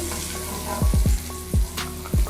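Brinjal fries in hot oil over a high flame, a constant close sizzle broken by several quick scraping and clinking strokes of a utensil as the pieces are stirred.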